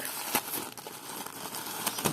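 A large black plastic bag handled while a parcel of vintage green jewellery is unpacked, giving soft continuous crinkling and rustling with a few sharper crackles, close by and fairly quiet.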